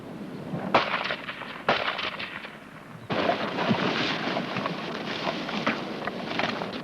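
Gunfire crackles during an infantry section's fire-and-manoeuvre training exercise: loud, sharp onsets followed by sustained rattling bursts, with a brief lull before a heavier burst that runs to the end.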